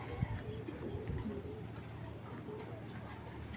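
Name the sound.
racer pigeons cooing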